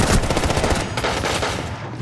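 A video game shooter fires a loud, rapid stream of automatic gunfire, with dense, evenly spaced shots running continuously for about two seconds and no talking over them.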